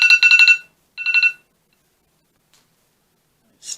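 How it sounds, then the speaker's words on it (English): A kitchen timer alarm rings in two quick bursts of rapid high electronic beeps, the first longer than the second, followed by silence and a short third beep at the end; close and loud with no talk. "my timer again."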